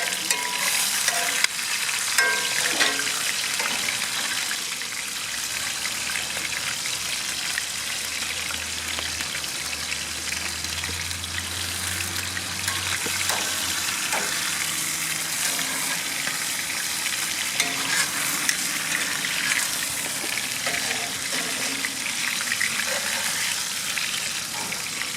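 Marsala chicken and cheesy potatoes sizzle steadily on a backyard grill in a constant, loud hiss, with occasional scraping and stirring sounds across the cooking surface.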